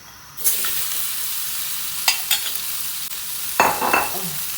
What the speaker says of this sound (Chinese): 锅烧热了，把腊肉放下去。